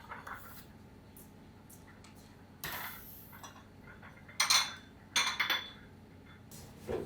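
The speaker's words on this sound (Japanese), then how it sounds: "乾いたお皿を所定の位置に戻す。" Quiet restaurant kitchen clatter: a few separate clinks and knocks of dry plates being put away, sparse and irregular, over a low background hum.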